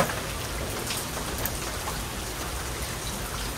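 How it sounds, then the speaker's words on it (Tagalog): Heavy rain falls steadily on a surface in the rural Philippines, a constant close patter with scattered louder drops and no talking. "ang daming ulan"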